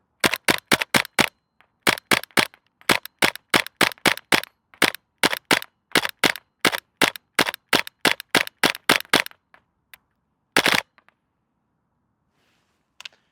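A VFC MP7 gas blowback airsoft gun fires on semi-automatic in a fast run of sharp, loud cracks, dozens of close shots in quick bursts before a short pause and one last shot.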